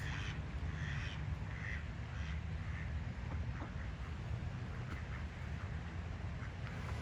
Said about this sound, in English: Some loud ducks.